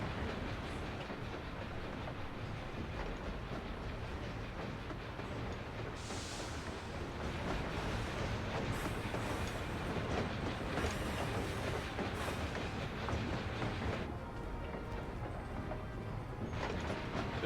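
A train runs in Final Fantasy XIV, a continuous loud rumble with rhythmic clickety-clack of wheels on rails and brief higher squeals, sustained for the whole stretch without speech.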